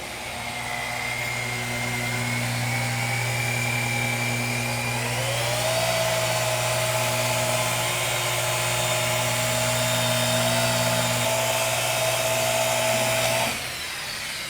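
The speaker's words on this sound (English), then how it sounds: "I'm going to buff this out" A power polisher buffing sanding marks out of car paint whirs steadily for the whole stretch, its pitch sliding up partway through, then cuts off near the end.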